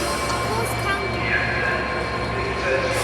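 Two diesel trains pull out of York station with a steady low rumble and engine drone, plus faint higher whine, while a person talks over the sound.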